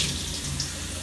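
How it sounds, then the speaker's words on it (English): Hot water pours steadily from a sink tap, a close, bright, hissing rush that stays constant throughout. "I'm just gonna turn on my hot water, make sure it's really hot, and wet my fabric"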